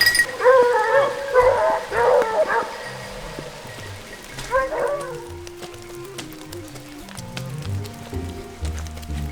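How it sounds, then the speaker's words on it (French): Hunting dogs bay and howl in bursts through the woods, some calls close and others farther off, with quieter stretches between. "on attend le dernier chien là, qui arrive là"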